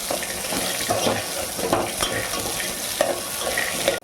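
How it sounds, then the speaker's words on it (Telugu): Chilies, peanuts and curry leaves sizzle and crackle in hot oil while being stirred, steady frying noise with scraping, no speech. "మిర్చి, పల్లీలు, కరివేపాకు వేగే వరకు వేపుకోవాలి."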